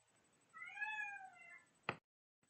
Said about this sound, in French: j'ai un chat qui miaule.